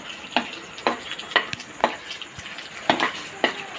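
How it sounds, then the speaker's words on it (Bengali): Paneer pieces are stirred in hot sugar syrup in a pan, giving sharp scraping and clinking strokes at a steady rhythm of roughly two per second over a soft bubbling sizzle, close and alone. "পনির দিয়ে হাতটাকে থামাবেন না, নাড়তে হবে"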